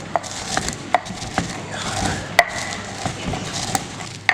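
Pepper is ground by hand while a beetroot salad is prepared: a steady run of close, sharp knocks and gritty crunches, roughly two a second, with no one speaking.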